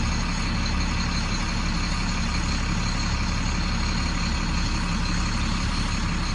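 A 2006 International heavy truck engine idles steadily while warming up, a close, constant low diesel rumble with a fine even rattle and no change in pace throughout.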